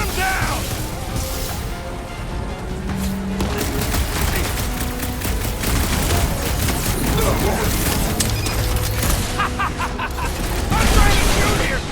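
Gunfire during combat in Marvel's Guardians of the Galaxy, a continuous, busy stream of shots and impacts mixed with explosions and game effects, with characters talking loudly over the action.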